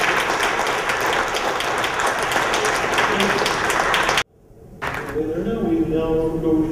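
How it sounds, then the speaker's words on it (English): Lecture audience applauding in a hall, a dense steady wash of clapping that cuts off abruptly near the end, followed by quieter tonal sounds. "So again, just another round of applause for Dr. Williams."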